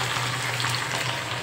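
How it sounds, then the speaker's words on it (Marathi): Sliced onion frying in plenty of hot oil, a steady, dense sizzle that stays even and close throughout with no talking over it. "आपण त्यात थोडंसं कांदा चांगला फ्राय करून घ्यायचं."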